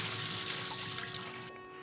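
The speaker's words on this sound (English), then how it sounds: "So I stir the rice again and you can see the water's turning white." Sushi rice being rinsed and stirred in water, giving a soft continuous swishing and trickling close by, quiet and steady with no talking.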